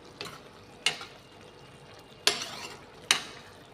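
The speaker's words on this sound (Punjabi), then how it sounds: "ਹਾਂਜੀ ਸਬਜ਼ੀ ਆਪਣੀ ਬਣ ਰਹੀ ਹੈ" Pumpkin (lauki) sabzi cooking in a pan, with a soft background sizzle broken by four sharp clinks of a spoon stirring against the pan, no voices.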